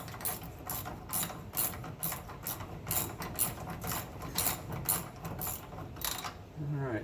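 Socket wrench ratcheting on front and rear sway bar bolts of a 1970 VW Bus, steady rapid clicking strokes up close, fairly loud throughout.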